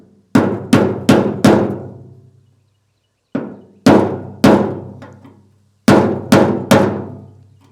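A hammer strikes a screwdriver set against the lock ring of a fuel tank sender on a 1989 Ford F-350 7.3L IDI diesel, giving ten loud ringing metallic knocks in three quick bursts separated by short pauses.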